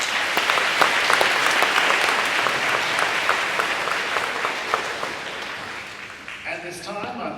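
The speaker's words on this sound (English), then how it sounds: "Let's give them one more round of applause." An audience applauds award recipients at a community salute event in Fayetteville, NC. Dense, loud clapping holds steady for several seconds, then tapers off near the end as a few scattered claps and stage noises follow.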